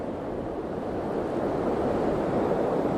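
Ocean waves wash onto the shore at Galveston, Texas, in a continuous, fairly loud surf noise that swells slightly, with no talking.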